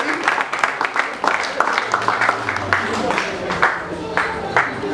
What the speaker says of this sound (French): Merci, applaudissez pour les enfants.